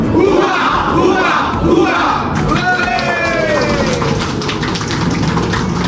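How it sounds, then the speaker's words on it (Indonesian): A crowd at a Bali sea turtle tagging and conservation gathering gives loud, dense applause and cheering that holds steady for several seconds. "Aplaus untuk AKPPB."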